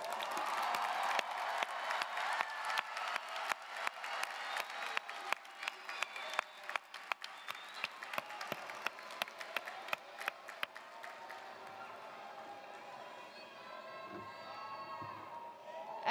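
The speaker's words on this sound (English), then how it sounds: "Please recognize all of our graduates by giving them another round of applause." A graduation ceremony crowd at a Florida state college claps and cheers for the graduates, dense applause with sharp claps and shouts for about ten seconds, then thinning into a murmuring crowd.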